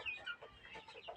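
Young Golashila desi chickens cluck and cheep softly in a brief, faint burst of overlapping small calls, with no talking.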